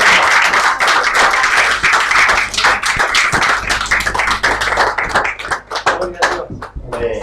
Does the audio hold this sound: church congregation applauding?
yes